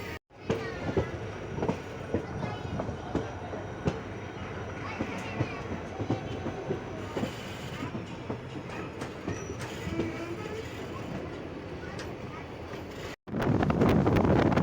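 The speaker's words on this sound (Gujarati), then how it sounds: "પાછી આપણી ગાડી ટ્રેક બદલ છે." A passenger train running between Lathi and Sihor rumbles steadily, with repeated clacks as it crosses switches onto another track. Wind buffets the microphone throughout, a brief silence falls near the end, and then a louder roar follows.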